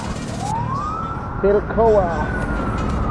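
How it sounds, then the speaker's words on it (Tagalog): An ambulance siren wails close behind a vehicle in city traffic at Philcoa, a loud rising and falling tone over steady road and engine noise. "May ambulansya sa ating likuran."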